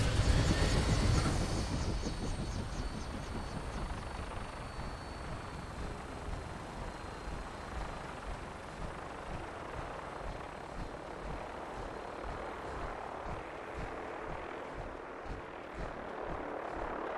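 Aircraft noise in Fallout 4 as a craft comes in to land: a steady, dense rotor-like drone holds throughout with a rough, grinding texture. A louder surge opens the sound before it settles into a continuous hum.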